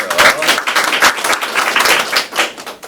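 A debate audience claps loudly for a speaker, a brief burst of close, uneven hand claps with a fluctuating rhythm and no talking over it.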